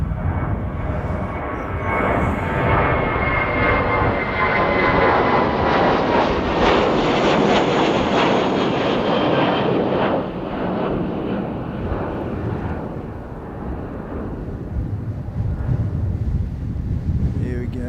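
Jetstar airliner taking off, a loud broad engine roar that swells, peaks and then slowly fades into the distance, with wind buffeting the microphone.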